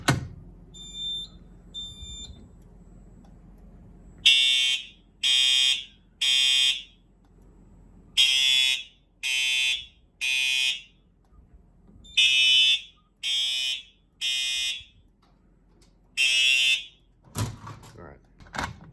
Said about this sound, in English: a Simplex True Alert Horn Strobe